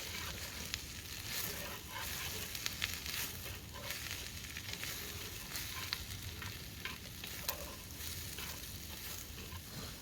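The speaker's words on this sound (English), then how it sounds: "And I'll let that all just simmer down a little bit" Pasta and meatballs simmering in a dutch oven over a campfire in Ross Creek State Forest, a steady, quiet sizzle and bubbling with small crackles and no voices.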